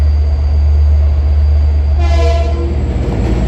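A train horn sounds a few short toots partway through, loud and near, over the steady heavy rumble of a passing train on the tracks at Long Island City.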